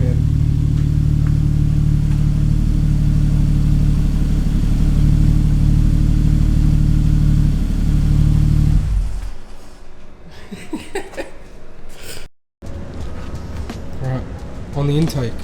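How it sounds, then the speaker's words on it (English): A tuned car engine, an F6 or RS3, revs loudly with a heavy droning roar at close range, then drops away into a sharp hissing release of the blow-off valve followed by scattered mechanical clatter. "The blow off on it is so loud, man."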